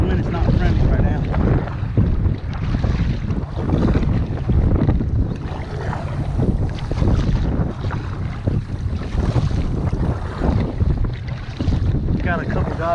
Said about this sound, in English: But this wind is not friendly right now.